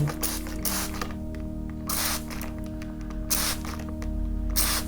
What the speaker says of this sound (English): now I'm going to add some trigger spray and let it flow